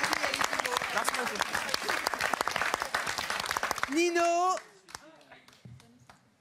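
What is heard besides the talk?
audience applauding comedians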